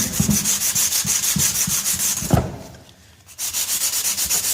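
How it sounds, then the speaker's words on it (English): Medium-grit emery cloth rubbing back and forth across a part on a 45-year-old engine during a teardown, a steady rhythmic scraping that pauses briefly near the end before resuming, close and loud. "Got some emery cloth here. Relatively medium grit."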